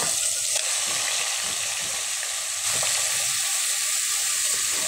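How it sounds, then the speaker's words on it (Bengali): Marinated, spiced duck meat fries in hot oil with a steady, close sizzle and hiss, broken by a few brief stirring movements. "এখন তেলটা গরম হয়ে গেছে, এখন এতে দিয়ে দিব মাখানো মশলা ম্যারিনেট করা মাংসটা"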